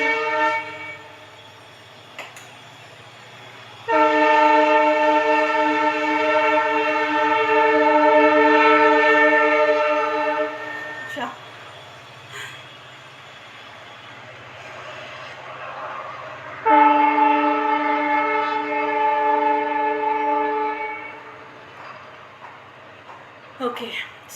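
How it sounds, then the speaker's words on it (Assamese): A train's horn sounds in two long, loud blasts, the first lasting about seven seconds and the second about five after a pause, with rail rumble and faint room noise between them. "মানে ট্ৰেইনৰ মাতটো"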